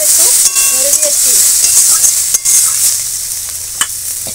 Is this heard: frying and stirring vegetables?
yes